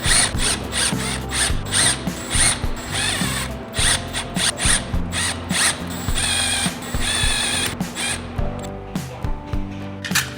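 Clutch spring bolts on a 2025 Harley Road Glide being snugged down with a ratchet: repeated quick clicking bursts of the pawl, close and loud, with short pauses between strokes.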